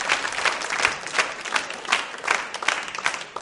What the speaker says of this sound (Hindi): तालियां जोरों से बजाइए इस संकल्प के लिए।